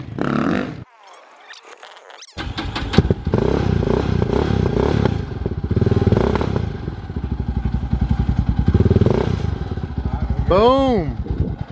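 A 450 dirt bike fires up from cold at a motocross track after a brief silence, then settles into a loud, steady, close-up rumbling idle with some clatter, and a rising rev swell near the end.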